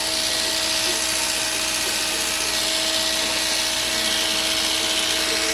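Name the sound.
Oster hair clipper cutting thick hair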